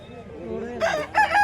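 Roosters crowing at a bustling hen market, two loud cock-a-doodle-doo calls rising one after the other near the end over a murmur of crowd noise.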